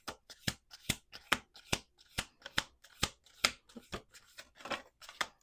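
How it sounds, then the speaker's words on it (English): Cards are riffled and bridged in quick repeated bursts, crisp and close, with a brisk, uneven rhythm and no talking. "We're going to do 2 more shuffles."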